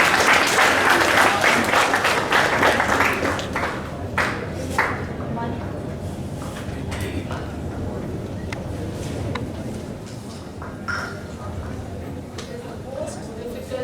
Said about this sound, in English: Then we once again with a round of applause.